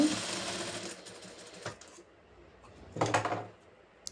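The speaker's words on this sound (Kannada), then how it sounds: "ಎಕ್ಸ್ಟ್ರಾ ಬರೋ ಕಚ್ಚನ ಟ್ರಿಮ್ ಮಾಡಿಕೊಂಡು ನೀಟಾಗಿ ಸ್ಟಿಚ್ ಮಾಡ್ಕೊತಾ ಇದ್ದೀನಿ" A sewing machine stitches a blouse, running in short close bursts: a long run at the start, a brief one in the middle and another near the end, with quiet gaps between.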